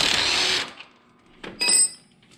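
An impact wrench with a 1/4 inch Allen bit loosening brake bolts on a Scag Cheetah mower: a close half-second buzzing burst, then two shorter rattling bursts after a pause.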